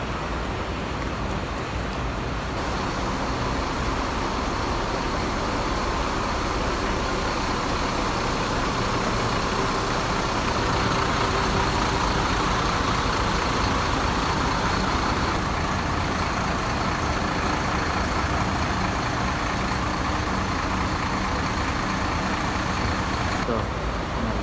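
A Sinar Jaya bus engine idles steadily at a bus stop, a continuous low rumble that holds for the whole stretch with no breaks, over faint background chatter.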